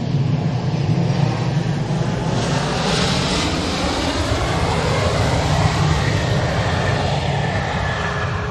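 A TUI Boeing Dreamliner rolls past at Manchester Airport with a loud, continuous jet roar and a whining engine tone that sweeps slowly in pitch as it moves by.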